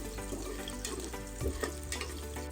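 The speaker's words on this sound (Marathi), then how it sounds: "लसण आपण तेलामध्ये ना चांगली जरा फ्राय करून घ्यायची।" Garlic fries in oil in a pan for a Konkani-style wajdi dish, giving a soft, continuous crackling sizzle. A light knock or stir comes midway, and no one speaks.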